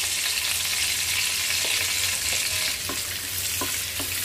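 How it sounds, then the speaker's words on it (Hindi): Mustard hisses and sizzles steadily in hot oil in a pan, a close, even frying crackle with a few soft stirring taps, no voices. "अब इसमें हम मस्टर्ड डाल देंगे।"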